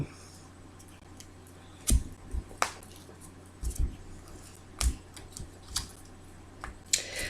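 A deck of cards is cut for a tarot reading, giving soft, irregular taps and crisp card-edge clicks spaced over several seconds against quiet room tone.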